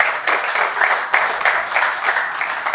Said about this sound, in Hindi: उसके लिए जोरदार तालियां।